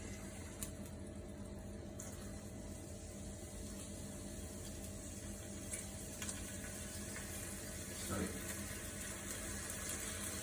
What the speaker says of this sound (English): In go the onions for now. So cook your onions down.